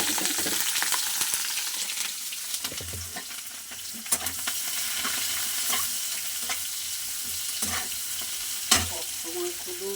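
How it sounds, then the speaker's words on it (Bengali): Chili, garlic and onion fry in hot oil in a pan: a steady close sizzle throughout, with sharp scrapes and clinks from stirring scattered across it. "এর মধ্যে লঙ্কা, রসুন, পেঁয়াজ এইটা দিয়ে আমি আগে এটা একটু ভেজে নেব"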